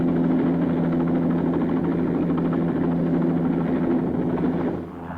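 A helicopter in flight drones with a steady close rotor throb and engine hum, loud and continuous before easing off at the very end.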